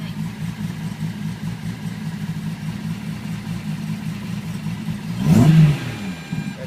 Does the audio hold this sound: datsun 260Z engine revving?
yes